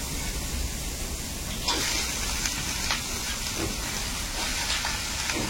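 Dried shrimp and tender greens frying in a pan, a steady sizzle and crackle with a few clinks of a spatula, no voices.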